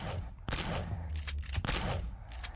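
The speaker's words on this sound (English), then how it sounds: "I'm going to get out the shotgun and deal with these ones over here." Several punchy shotgun blasts boom out in Boxhead as the player fires on a zombie horde, spaced irregularly with a couple fired in quick succession over a rumbling game background.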